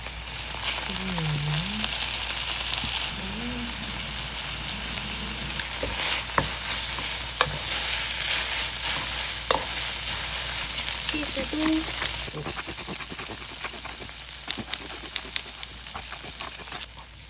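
Tofu noodles stir-fried in a pan, a steady broadband sizzle with scattered clicks and scrapes of stirring throughout, a brief voice murmuring early on.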